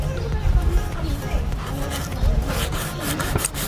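Sandpaper scrubs over a Mio Soul i 125 motorcycle fairing during a repaint, giving a steady close rasping rub while someone talks over it.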